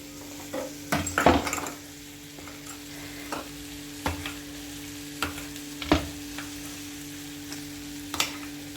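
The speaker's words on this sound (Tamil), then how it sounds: "இந்த பட்டர் வந்து உருகிற வரைக்கும் நல்லா கிளறி விட்டுருங்க." Homemade butter melts in a pan over a low sizzle while a spoon stirs it in scattered, close scraping and tapping strokes against the metal, with no talk.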